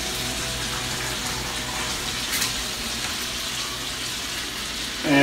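Boiled potatoes being drained in a kitchen, water pouring steadily with a continuous splashing rush, close and fairly loud, with a bump at the end.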